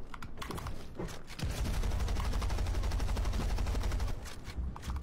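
Rapid gunfire cracks out in Fortnite, with a few scattered shots and then a dense, continuous burst of repeated bangs that trails off, fairly faint overall.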